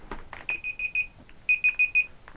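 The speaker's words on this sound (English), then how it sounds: "That is a timer so that I know how long I record for" A recording timer emits two quick sets of bright, evenly spaced electronic beeps, four or five pips each, close and clear against a quiet room with faint soft background noise.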